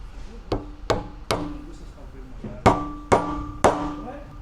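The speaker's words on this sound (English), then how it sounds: "our tool of choice is going to be hammer. Actually, dual hammer" Two hammers strike metal on a 1JZ-swapped Nissan S15 in a garage, seven sharp ringing blows in loose pairs and singles, close and loud.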